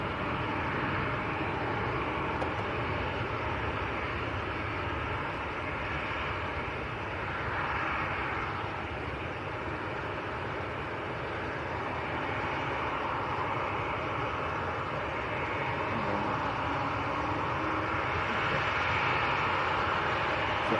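An Emirates Boeing 777 crosses runway 23 right at Manchester Airport, heard as a steady broad jet engine roar at moderate distance that swells gently and stays continuous throughout.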